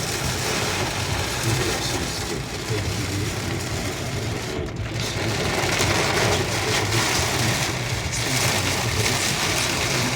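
Heavy thunderstorm rain in Oborniki Wielkopolskie, probably heard from inside a moving car: a dense, steady roaring hiss that fills the whole clip with no break and no distinct thunderclap.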